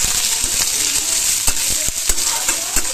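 Torn green chilies and grated ginger fry in a pan with a steady close sizzle, broken by the scrape and knock of stirring.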